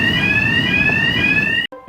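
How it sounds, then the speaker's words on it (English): A house burglar alarm blares with a loud, steady, piercing electronic tone that cuts off abruptly near the end, heard close and alone. "one of our housemates annoyingly setting the burglar alarm off"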